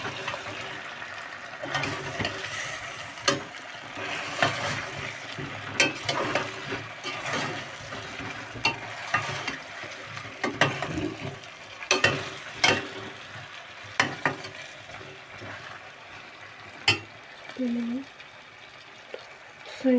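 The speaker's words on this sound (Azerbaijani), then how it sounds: "Ətimi də tökdüm. Bir tek qovrulurlar." Meat and tomato frying together in a pan, a steady close sizzle with bubbling and repeated clatter of a utensil stirring, with some talk over it.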